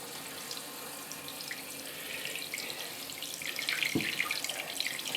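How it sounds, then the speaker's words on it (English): Water rushes into a toilet tank as the supply is slowly turned back on during a leak repair, a steady hissing fill that grows gradually louder over several seconds with no talking. "Now, what we can do is slowly turn the water on."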